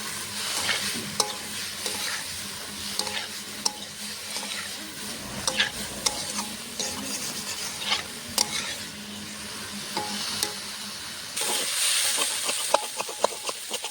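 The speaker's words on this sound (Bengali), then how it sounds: "স্বাদ মতো নুন, হলুদ গুঁড়ো দিয়ে সবজিটা ভালো করে ভেজে নেব।" Vegetables frying in a pan with salt and turmeric while being stirred, a steady sizzle with scattered scraping clicks of the spatula, close and fairly quiet, no voices.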